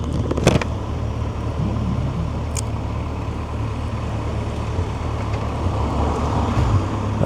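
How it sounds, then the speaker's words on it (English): A car approaching and passing at a roundabout, a steady low rumble of road traffic with a rising engine drone, heard from the roadside with no talking. "Let's wait for this car to go."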